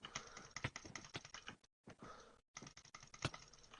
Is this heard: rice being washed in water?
no